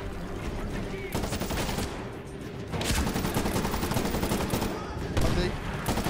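Sniper rifle gunshots in the video game Medal of Honor Warfighter ring out as loud, dense bursts of gunfire and battle noise over several seconds, with sustained firing and explosions filling the scene.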